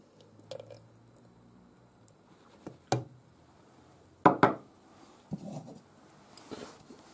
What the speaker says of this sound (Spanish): Echamos la mantequilla.